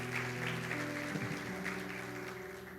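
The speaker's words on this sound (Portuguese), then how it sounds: "Dê um aplauso ao Senhor." A church congregation applauds, a soft wash of clapping blended with sustained organ or keyboard chords that shift partway through, moderately distant.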